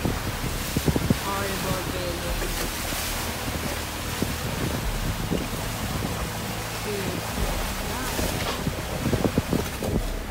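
Steady wind and choppy waves rush past a trimaran under sail in 20 to 22 knots of breeze off Lombok, with constant wind buffeting on the microphone and brief talk in the background.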